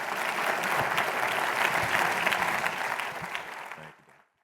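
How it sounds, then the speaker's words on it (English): Dense applause from a large audience at a small business finance forum's opening plenary, steady and full for about three and a half seconds before quickly dying away to silence. "Let's give a round of applause for Dan."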